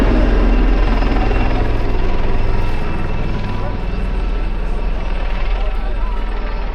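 Royal Navy Lynx Wildcat helicopter flying a display at the Eastbourne Airshow, a loud, steady rotor and turbine roar that eases slightly partway through, with voices present.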